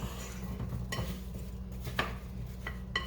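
A utensil stirs sliced apples with added flavoring in a bowl, giving soft scraping and a few light clinks against the sides over a low steady hum, close and fairly quiet.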